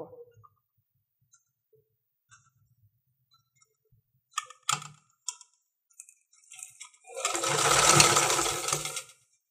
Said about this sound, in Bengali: এভাবে করে রেখে তারপর সেলাইটা করবো